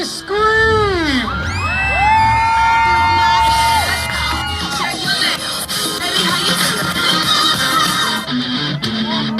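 Crowd at a monster truck freestyle show screaming, whooping and cheering loudly, with a dense, sustained roar of many voices and high shrieks rising over a steady arena din.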